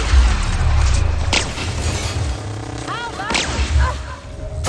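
A shock weapon fired in The Outer Worlds sci-fi game: sharp cracking electric discharges with whip-like snaps, two distinct bright zaps amid a low rumbling game background and faint chirping electrical sweeps.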